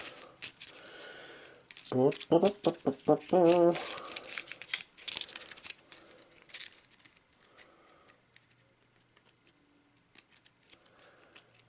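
A deck of Arkham Horror game cards is shuffled by hand in a quick burst of rapid papery riffling and flicks, close and fairly loud, followed by softer handling noises with a person talking.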